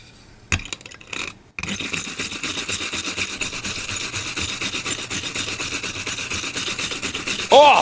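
Metal brush rubbed back and forth across laser-engraved glass, a harsh, gritty rasping scrape that starts with a couple of short strokes, then runs continuously and close with a shrill, grating texture.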